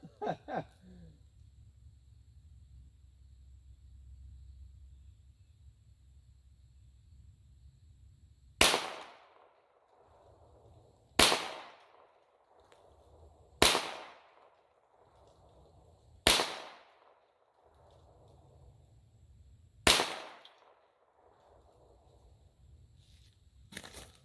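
Five sharp, loud gunshots from a Smith & Wesson 22A-1 .22 pistol fired at cans, spaced a few seconds apart, each a crisp crack with a short outdoor echo.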